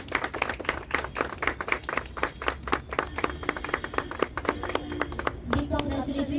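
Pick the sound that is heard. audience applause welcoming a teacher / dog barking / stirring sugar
audience applause welcoming a teacher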